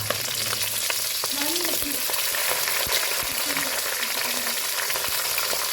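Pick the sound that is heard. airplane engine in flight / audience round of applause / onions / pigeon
onions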